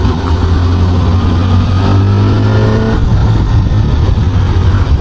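A Honda CB500SF four-cylinder street motorcycle with an electronic clutch, downshifting: a loud, close engine drone whose pitch steps and shifts midway, then settles into a steady roar.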